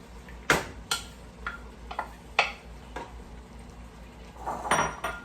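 Rinsed canned corn tumbling into a pot of plant-based chili, heard as a handful of sharp metallic clinks and scrapes spread over several seconds, close and fairly loud, with no talking.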